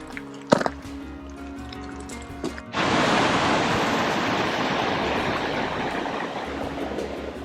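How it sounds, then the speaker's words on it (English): A sudden, steady rush of rainwater starts and continues loudly along the West Highland Way between Ardlui and Tyndrum, a broad splashing flow pouring down nearby. "There's just water coming down from everywhere out here."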